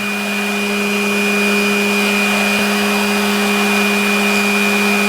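An Abest mini grinder and polisher with flexible shaft runs at maximum speed while standing on a workbench, giving a loud, steady high-pitched whine with strong tonal hums that holds constant throughout, with no talk.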